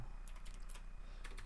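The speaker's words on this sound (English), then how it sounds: "Just to make sure I'm typing this in right." Soft, rapid typing on a computer keyboard, with clustered light key clicks and a brief pause before a final burst, heard faintly with no talking.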